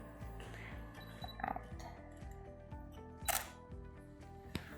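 A camera shutter firing at 1/400th of a second gives a few sharp, separate clicks over a low background hum, with one slightly louder snap in the middle.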